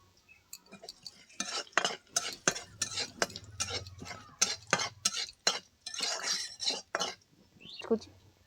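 Chopped onions frying with panch phoron in mustard oil in a kadai, with a quiet sizzle under repeated close scraping and clinking stirs of a utensil against the pan, and a brief low voice at moments.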